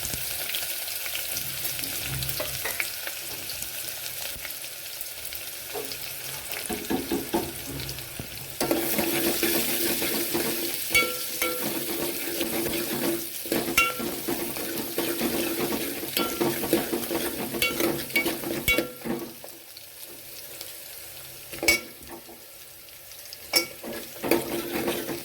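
Chopped onions and black pepper fry in a pan as a base for cauliflower soup, a steady moderate sizzle with scattered stirring clinks and scrapes against the pan.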